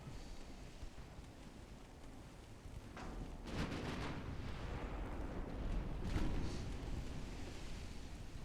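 German 6-inch naval guns fire in the naval warfare game Ultimate Admiral: Dreadnoughts, a couple of distant booming shots with rolling rumble over a windy, sea-like background, no voices.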